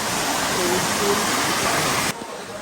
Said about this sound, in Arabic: شجره يم شلال ما ادري شو اسمه او منبع